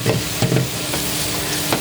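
Chestnut mushrooms fry in butter in a pan while being stirred, with a steady close sizzle and a few quick scraping stirs, no talking.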